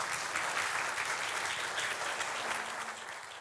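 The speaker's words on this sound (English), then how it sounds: "a round of applause for our fantastic panel" A large audience gives a panel a steady round of applause, dense clapping that carries on at an even level and fades slightly toward the end. No one speaks over it.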